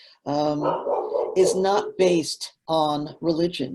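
A pet dog barks a few times in a home during a talk on animal law, the yaps cutting in briefly and competing with a man's continuous speech close to the microphone.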